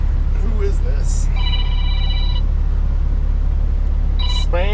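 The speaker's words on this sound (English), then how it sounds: "So much spam phone calls." Phone ringing with an incoming spam call inside a Kenworth W900 truck cab, two short bursts of electronic ring tones over a steady low engine rumble, with talk nearby.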